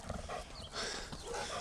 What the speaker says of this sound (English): so we just got run up on by two off-leash dogs